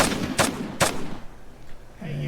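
Two sharp, loud gunshot bursts from enemies in the GameGuru Max shooter come in quick succession, followed by a fading tail and a faint hum.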